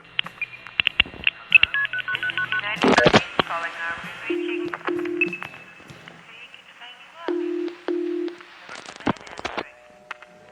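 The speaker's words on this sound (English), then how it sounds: "This demonstration will show the procedures and techniques used in dialing." Telephone touch-tone dialing demonstration: a run of short, evenly spaced DTMF beeps and paired tones stands out clearly, mixed with bursts of crackly noise and brief voice fragments between groups of tones.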